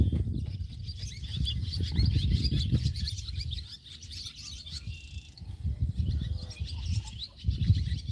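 Purple martins chirp and twitter steadily while flying around at dusk, a lively stream of high calls over low rumbling background noise.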